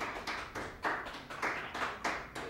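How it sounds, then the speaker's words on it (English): Applause sound effect played from a button in an apartment: a short, close burst of rhythmic clapping in roughly even beats, with no voices. "I have a button in my apartment which I just press every time I sing, and the applaud comes out of somewhere"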